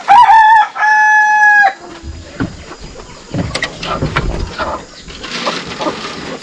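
A rooster crows loudly and nearby at the start, followed by clucking chickens and scattered farmyard clatter at a village poultry pen.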